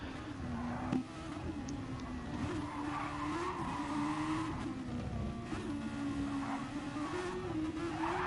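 Race car sliding and skidding in a PS4 racing video game, with continuous engine drone and a steady tire-squeal tone running loud and smooth throughout.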